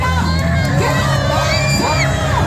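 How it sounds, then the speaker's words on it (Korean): A large crowd at an outdoor South Korean presidential campaign rally at Paju's Unjeong station cheers and shouts loudly and continuously, with whoops and yells rising over a dense roar; clapping is not clearly distinct. "시민 여러분, 힘찬 박수 부탁드립니다."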